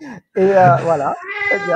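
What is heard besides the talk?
cat meowing during a live stream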